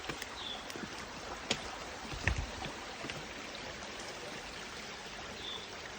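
Flowing stream with a waterfall in a forest, a steady soft rush of water heard from a distance, with a few light knocks and taps over it.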